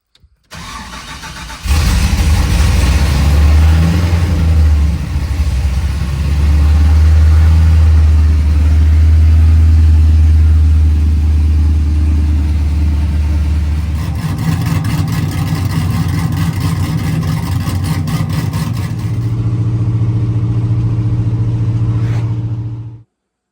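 A Ford OBS truck engine cranks and starts, then runs with a loud, rough, steady rumble that shifts in pitch partway through before cutting off, with no speech.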